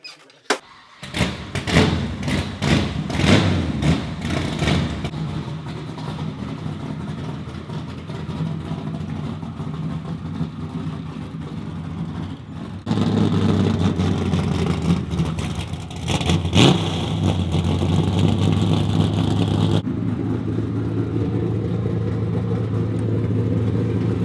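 A 1968 Camaro drift car's engine idles, then revs up and settles at a higher steady drone, its mid-pitched rumble fairly close and continuous with a few sharp bumps near the start.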